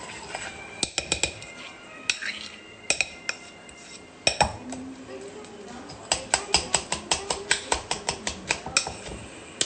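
A spoon stirs a wet crumble mix of mango, apple and wheat flakes in a bowl, clinking and scraping in quick bursts that become a steady, rapid rattle toward the end, with faint voices in the background.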